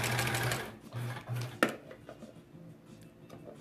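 A sewing machine stitches a quilt block in quick, rhythmic bursts, close and moderately quiet, with a short sharp clack partway through before the whirring fades to a softer hum.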